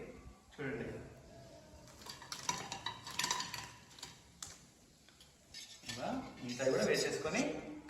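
Bajji fritters turned in a frying pan, with scattered metallic clinks and scrapes of a utensil against the pan coming in short bursts, mixed with a soft background sizzle while a person talks over it.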